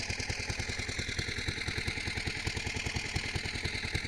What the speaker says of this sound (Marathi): तिकडे पंपाचा आवाज येतो आहे